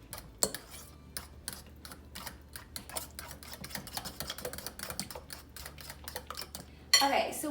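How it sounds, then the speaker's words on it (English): A spoon or utensil clinks and scrapes against a bowl in quick, irregular strokes while mixing wet banana bread ingredients with melted coconut oil, close and clear, ending with a louder clatter. "you're just going to mix it up some more."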